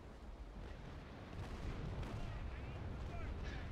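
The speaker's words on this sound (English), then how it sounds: "Fucking mortar brig, man." Mortar brig firing in Naval Action, heavy booming cannon blasts rolling over a dense low rumble of naval battle ambience, continuous and thick with repeated distant thuds, quite faint overall.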